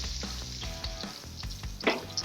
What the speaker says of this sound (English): We're going to let those kind of fry in that bacon grease.